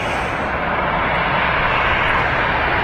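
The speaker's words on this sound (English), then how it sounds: "Another EasyJet on the taxi out here." An EasyJet airliner taxis out at Manchester Airport, a steady, loud engine rumble and broad whoosh holding evenly for about three seconds without talk.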